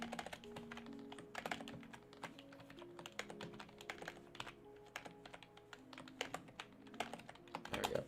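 Fast, irregular clacking of computer keyboard keys during coding, a steady run of close, crisp taps over about eight seconds with brief pauses and a quiet hum beneath.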